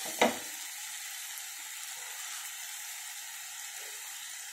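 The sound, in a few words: brinjal and green peas frying in a pan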